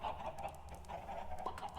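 Chickens in the game Ancient Kingdoms clucking softly in short repeated bursts, faint and somewhat distant, with no talk.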